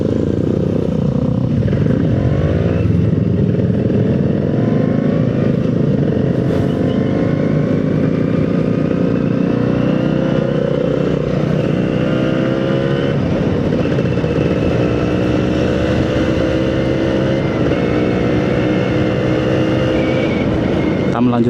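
Motorcycles riding on the road up to Puncak Aher in the Ciletuh geopark, a loud, continuous engine drone that holds steady throughout, with voices faintly under the noise.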